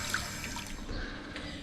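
Water trickles and drains from a small saltwater aquarium with no fish in it during tank maintenance, a steady close liquid dribble with no talking.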